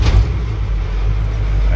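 A 1976 Pirsch pumper fire truck's engine cranks and catches, settling into a loud, steady low rumble that carries through the whole stretch without any talk over it.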